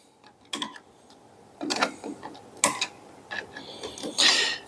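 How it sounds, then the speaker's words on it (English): A gasket is pried off a DSG DQ400 transmission, giving several separate creaking, scraping bursts of tool against metal and rubber, close and moderately loud, with quiet pauses between and no talk. "Now let's gently pry off this gasket."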